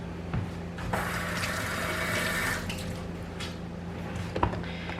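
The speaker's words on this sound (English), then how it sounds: "So you're going to wash these pieces." Tap water runs steadily over freshly cut red pepper pieces being washed for Puerto Rican rice with pigeon peas, a close broadband rush that swells for a couple of seconds amid small splashes and drips.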